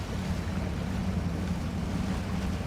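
A truck in Spintires: MudRunner driving into water, a continuous rushing, sloshing wash over a low engine rumble, steady and close, no talk.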